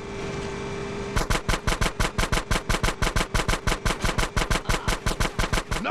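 Rapid automatic gunfire from a gate shootout in GTA San Andreas on mobile, a loud, even stream of closely spaced shots that starts after a second of game background and keeps going without a break.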